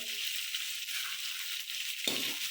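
Cumin seeds roasting in hot oil with chicken for pulao give a steady, fairly quiet sizzle throughout, with a short scrape of stirring near the end.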